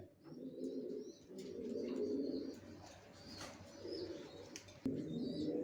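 Racer pigeons coo softly in a loft, their low throaty coos rolling in repeated bursts close by, with occasional faint chirps and a brief flutter of wings.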